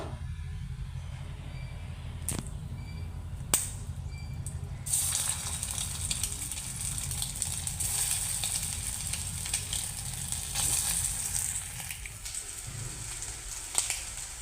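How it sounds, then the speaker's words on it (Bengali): Egg fritters (bora) sizzle steadily in hot oil in a pan, a loud, continuous frying hiss with a few sharp spatters and brief clinks. "বাকিগুলোও আমি ঠিক একইভাবে ভেজে নেব"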